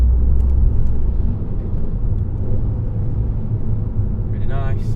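A 400 bhp Audi S3 8V with a custom valved exhaust, valves open, downshifting. It gives a loud, deep, close rumble that swells early and then settles, and a voice comes in near the end.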